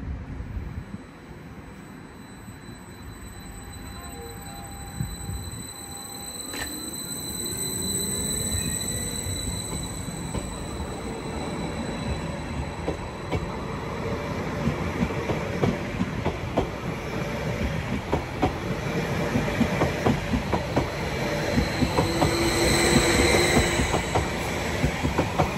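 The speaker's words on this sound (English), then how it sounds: "Soon to the part now is the 1305 Greater Anglia service to Norwich from London Liverpool Street. 745 102 is at the helm." A Greater Anglia Class 745 electric multiple unit, 745 102, works a London Liverpool Street to Norwich service into Ipswich station, its rumble and wheel clatter building steadily and growing louder as it draws near, with faint wheel squeal and no talk.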